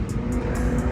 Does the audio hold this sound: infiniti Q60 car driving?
yes